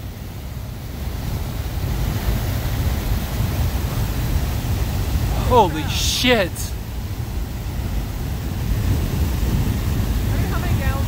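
Steamboat Geyser erupting in 2019 sends out a powerful, continuous roar of rushing water and steam, loud and unbroken, with brief excited exclamations over it.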